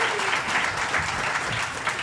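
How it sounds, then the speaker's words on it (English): An audience breaks into dense, sustained applause for guests coming up on stage at a live show, a steady wash of many hands clapping without letting up. "give them a round of applause. Give them a hand."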